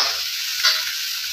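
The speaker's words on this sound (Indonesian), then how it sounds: "Nah tuh kita lagi tumis-tumis." Indomie Aceh noodles with seafood sizzle steadily as they are stir-fried in a pan, a close, even hiss with a brief louder flare of frying midway.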